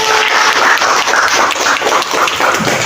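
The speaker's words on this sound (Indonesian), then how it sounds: "Silakan didengar dari tepuk tangan satu-satu." Dense, loud applause from a classroom audience after a group presentation, many hands clapping continuously and close.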